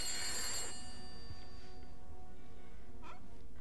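A telephone rings loudly in the horror video game The Beast Inside, one sharp bright ring up close that fades off, followed by a fainter second tone about three seconds later.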